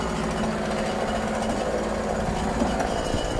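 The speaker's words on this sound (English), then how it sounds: "Okay, there we go. Chainsaw in work." A Ryobi RCS4240NB two-stroke petrol chainsaw runs steadily and loudly close by, a continuous buzzing engine drone that holds even throughout with no pauses.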